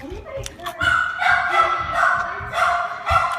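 A puppy barks and yips in short excited bursts, close by, while a person talks over it in a home kitchen.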